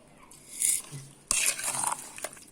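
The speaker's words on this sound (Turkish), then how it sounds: "Biraz karıştırıyoruz." Strawberry jam with lemon salt being stirred in a pressure cooker, a spoon scraping and clinking against the metal pot in a couple of short, close bursts with quiet gaps between.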